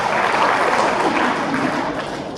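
An audience claps at a professional etiquette talk, a dense, steady round of applause that fades slightly toward the end, with no talk over it.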